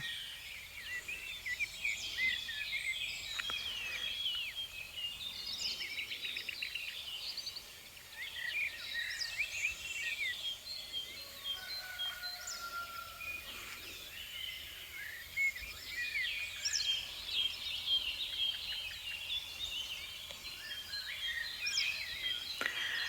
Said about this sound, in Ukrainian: Але чуєте, як пташки співають?